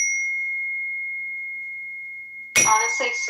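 A newly bought Zen bell is struck once and rings with a clear, pure, sustained tone that slowly fades, until a voice begins speaking over its tail.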